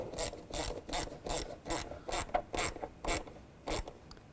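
A worm-drive hose clamp on a Chevrolet Cobalt airbox is tightened with a ratcheting tool: about ten quick, close, evenly spaced ratchet clicks, faint and alone with no talk.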